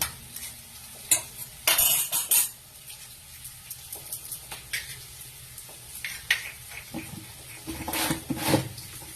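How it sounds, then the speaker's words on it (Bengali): Beaten egg frying in a pan for a layered egg dish, with soft sizzling under scattered clinks and scrapes of a utensil stirring against the pan, a few louder bursts of clatter, no talk. "তোমার ফেটিয়ে রাখা ডিমটা আমি একটা দিয়ে দিলাম ডিমটা একদিকটা ভাজা হোক"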